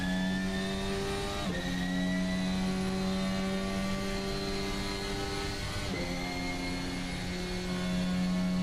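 High-pitched F1 car engine in the Assetto Corsa racing game, revving steadily and climbing through gears with two clear shift drops, a loud, continuous whine with no talk.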